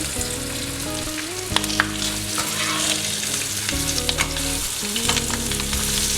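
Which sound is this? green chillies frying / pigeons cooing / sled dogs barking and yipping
green chillies frying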